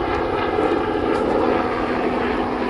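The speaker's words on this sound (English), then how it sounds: "watching the helicopter" A steady engine drone of a helicopter passing overhead, loud and constant, with no voices, near Haytor in Devon.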